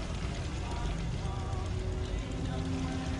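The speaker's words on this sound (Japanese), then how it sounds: "ミシンみたいな音がする" A defence turret whirs in the Fallout 4 video game with a busy mechanical chatter like a sewing machine, running steadily throughout under dense game ambience and radio noise.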